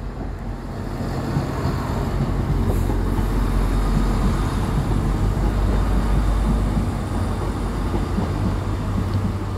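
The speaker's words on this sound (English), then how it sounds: "It's another train. That's 170" A Class 170 train rumbles past close by, a steady loud low roar with broadband rushing noise and some wind buffeting, holding for the whole stretch.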